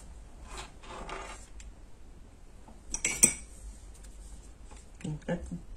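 Scissors make a few quiet snips and rustles as they cut the stem of a small green paper flower, with a sharper clinking cut in the middle. A person speaks softly between the sounds.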